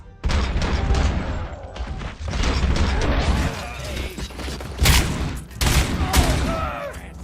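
Dense bursts of automatic gunfire and crashing impacts fill a RoboCop Rogue City video game firefight, loud and nearly continuous with brief pauses, mixed with faint game voices.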